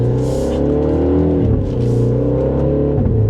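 A 2026 Mini JCW Countryman engine pulling at low speed, a loud steady droning hum with rising and falling pitch as it accelerates and shifts, heard from close by with no talking.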